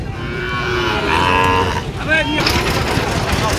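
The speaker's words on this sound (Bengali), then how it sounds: "এই পাশে দেখতেছি খুব সুন্দর একটি গরু" Sahiwal cattle at a livestock market give loud, drawn-out moos close by. The calls sit over a steady crowd murmur and faint motor noise.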